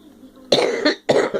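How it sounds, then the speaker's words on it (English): Two harsh coughs in quick succession, close and loud, after a brief quiet moment. "I can't quit coughing"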